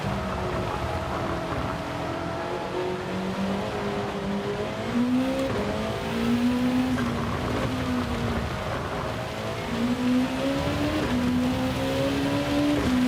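A World Touring Car race car at Spa-Francorchamps in a racing video game, its engine droning and shifting pitch steadily through the lap, with a wash of rain and spray beneath it throughout.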